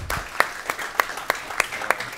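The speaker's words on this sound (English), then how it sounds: "I like how you can speak for 2 minutes and get applause" An audience claps during an interview event, sparse but rhythmic sharp claps at roughly even intervals over a soft room background, brief and moderately loud.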